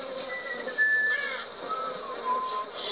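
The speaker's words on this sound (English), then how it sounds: "We get a crow eating his wound." A crow caws a few times in a Game of Thrones video game scene, a harsh call over a faint, steady ambient background, fairly close and moderately loud.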